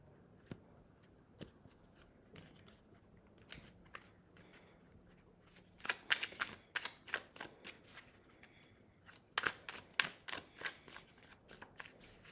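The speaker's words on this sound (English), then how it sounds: "Here, I want to shuffle this real good." Tarot cards being shuffled by hand, soft scattered riffles at first, then two bursts of rapid crisp flutters, close and moderately quiet with no talking.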